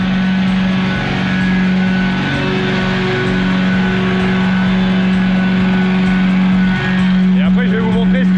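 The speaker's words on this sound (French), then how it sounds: "il y a le moteur qui est en train de chauffer. On l'entend" A steady mechanical engine drone from a refrigeration unit in a potato storage building hums close by with a constant low pitch, joined by faint rattles and a voice near the end.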